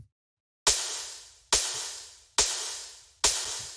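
Four evenly spaced snare hits, each a sharp bright crack blooming into a long washy reverb tail that decays before the next strike, rave-style and isolated after a short silence.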